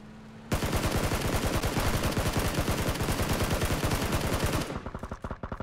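Sustained automatic gunfire in PUBG on the Miramar desert map, a dense rapid burst that runs for several seconds, loud and close, then breaks into a few scattered final shots.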